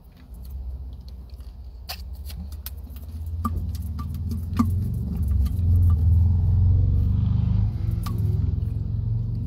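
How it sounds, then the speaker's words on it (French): Cars pass by on a road, a steady low rumble of engines and tyres that swells as vehicles go by, with scattered faint ticks and clicks on top and no one speaking. "Regardez les voitures."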